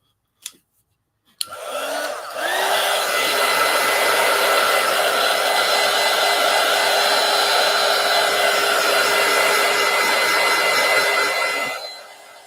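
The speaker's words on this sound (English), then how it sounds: "let me go ahead and hit this with the heat gun" A heat gun blowing on thick paint on altered collage book pages sends out a steady, loud whirring blast after a couple of faint clicks, running for about ten seconds and then cutting off.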